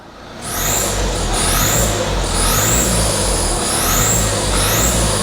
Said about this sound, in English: that squeaking is a leak on the EGR.